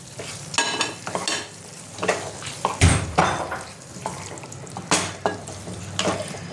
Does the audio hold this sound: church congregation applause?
no